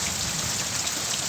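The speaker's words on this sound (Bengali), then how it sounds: "দেখো কিরকম বৃষ্টি হচ্ছে" Heavy rain pours down steadily around a house, a dense, even wash of drops hitting surfaces, loud and continuous with no break or voices.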